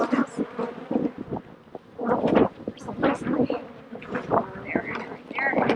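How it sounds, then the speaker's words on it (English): Honey bees buzz in an opened beehive during a beekeeping inspection, a dense close swarm hum running throughout beneath several people talking nearby. "we're trying to get a half a cup of bees"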